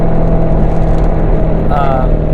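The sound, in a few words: sports car exhaust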